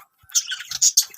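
A pet parrot gives a quick burst of bright, high chirps and tweets, close and fairly loud, lasting about a second with no voices.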